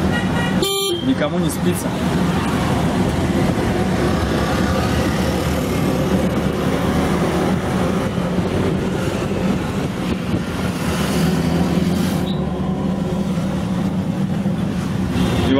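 Heavy evening road traffic in Goa near the Arpora Saturday night bazaar, with a steady engine rumble, a sharp car horn toot early on, and people talking over the flow of vehicles.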